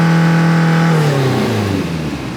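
A JDM project car engine revs up close and loud, then falls away in a throaty, descending drone over a couple of seconds.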